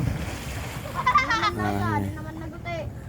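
Children jump and splash into the sea while swimming, with bursts of splashing and playful shouts and cheers near the middle, under someone talking.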